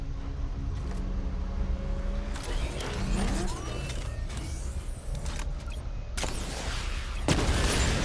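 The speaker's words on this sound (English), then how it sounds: "Destroy targets to charge up weapon energy and activate missile barrage" In Batman: Arkham Knight, the Batmobile fires a missile barrage: loud bursts of rapid launches and explosions break in several times over mechanical whirs and electronic tones.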